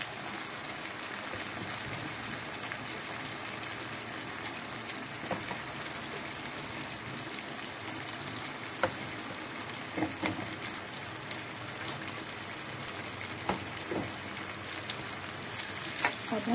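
Chana dal and spices frying in a pan over a medium flame, a steady crackling sizzle like light rain with occasional spoon taps and scrapes, continuous and fairly close.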